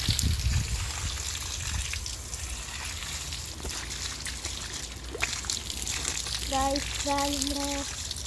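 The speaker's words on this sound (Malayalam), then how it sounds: "ഇതാണ് നമ്മുടെ പൈപ്പായിട്ടാണ് നമ്മൾ കഴുകുന്നത്" Water from a pipe washing a bicycle, a steady broadband rush and trickle running throughout at moderate level, with a few brief tonal chirps late on.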